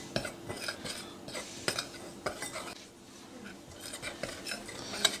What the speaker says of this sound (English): Next we'll mix this all up real nice.